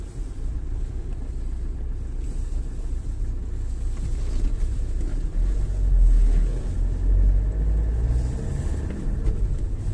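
A car drives across the city of Jelgava on an autumn day. Heard from inside, a steady, low road rumble and engine drone run throughout with faint wind noise and no talking.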